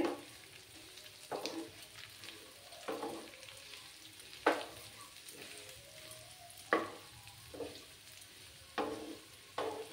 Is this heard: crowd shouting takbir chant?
no